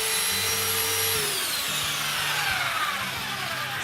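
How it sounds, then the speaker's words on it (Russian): Angle grinder cutting through a steel nail for a brick stove-fireplace build, a loud steady high-pitched whine with a falling pitch sweep, close and continuous with no talking. "Откидываем болгаркой его."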